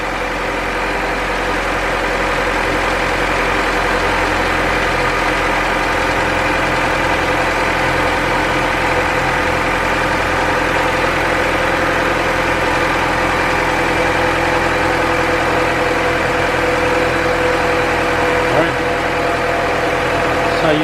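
A 2000 Honda Civic EX VTEC engine, just fitted with a new VTEC gasket and valve cover gasket, running at a steady loud drone with constant hum and no revving.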